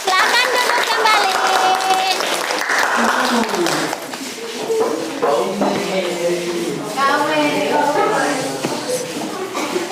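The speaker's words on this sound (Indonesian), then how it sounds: "Tepuk tangan untuk teman-teman." Students in an Indonesian-language classroom clap for classmates, a short uneven burst of applause mixed with chatter, shuffling and movement as pupils return to their seats.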